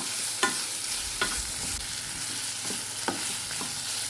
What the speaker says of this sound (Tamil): தக்காளியை இந்த அளவுக்கு வதக்கினா போதும்.